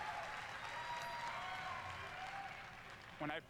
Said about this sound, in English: Applaud that man having a job.